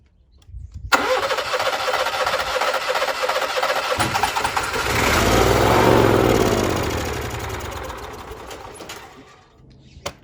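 An Onan Marquis Gold 5500 generator cranks with a fast, loud whirring starter for about eight seconds, swelling in the middle and fading out without catching or running, preceded and followed by brief quiet.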